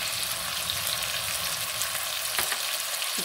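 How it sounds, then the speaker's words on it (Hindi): Noodles frying in a pan for chicken noodles, a steady dense hiss of oil crackle that runs unbroken and fairly loud, with a faint clink near the end. "फ्राई हो रहा है।"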